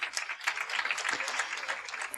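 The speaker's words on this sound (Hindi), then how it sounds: "सबके लिए तालियां बजाइए" A yoga class audience applauds in a soft, steady patter of clapping that stays even and fairly faint throughout.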